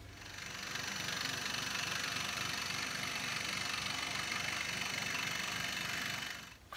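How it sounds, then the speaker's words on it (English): A scroll saw cuts a wooden butter knife contour, a steady rapid mechanical buzzing with a fast reciprocating chatter, close and continuous for several seconds before stopping. "To cut out the contour, I'm going to use a scroll saw"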